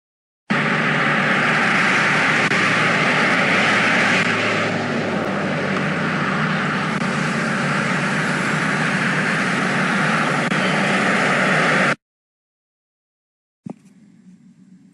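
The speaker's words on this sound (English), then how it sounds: "The cordless drill's full power and speed is applied continuously throughout this slow motion video clip" A cordless drill motor driving a continuously variable transmission at full power gives a continuous loud whine that runs steadily for about eleven seconds, then cuts off abruptly, followed by silence and a brief faint clatter.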